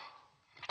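One short, sharp dog bark at the very end, after a moment of faint background noise.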